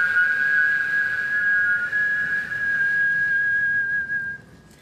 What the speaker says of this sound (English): A good old-fashioned whistling contest.